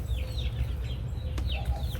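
Chickens clucking in a container garden, several birds giving short, scattered clucks and chirps at moderate distance over a low steady rumble.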